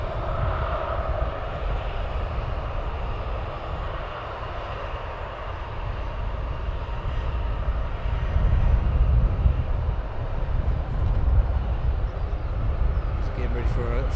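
An EasyJet airliner departs Luton Airport in a crosswind, its engine roar a broad, rumbling drone that swells toward the end and sits under wind noise at a distance.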